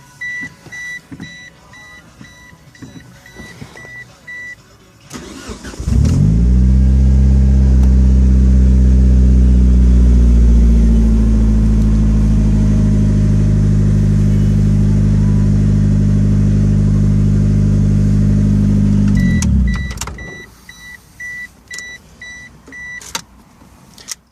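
A push-button-start car fires up after the key is turned back on, its engine settling into a loud, steady idle for about fourteen seconds before cutting off, with quieter clicks and beeps around it.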